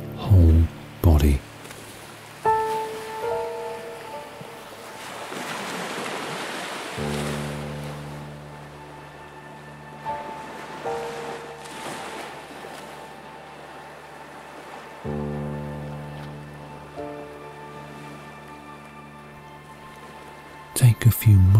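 Soft ocean waves wash in and out beneath calm, sustained music tones, with a gentle voice guiding a relaxation meditation at times.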